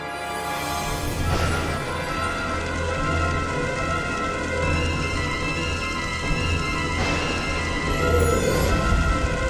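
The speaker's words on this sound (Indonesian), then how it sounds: "Hujan, datanglah!" Rain summoned by magic in a fantasy television show, a steady dense wash of rainfall on surfaces, continuous and fairly loud with brief louder bursts of noise.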